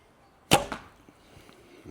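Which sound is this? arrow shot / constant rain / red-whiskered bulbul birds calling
arrow shot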